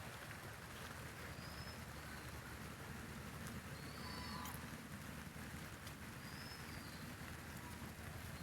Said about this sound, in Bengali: ফিসফিসে ফিসফিসে পড়তেছে বৃষ্টি।